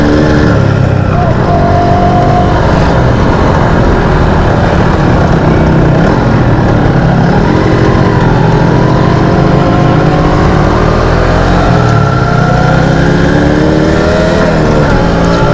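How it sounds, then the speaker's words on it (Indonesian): A Yamaha RZR motorcycle fitted with an oversize-bore engine block runs loudly, its droning engine tone rising and falling with throttle while someone talks over it. "Jadi kayaknya suara mesinnya agak keras."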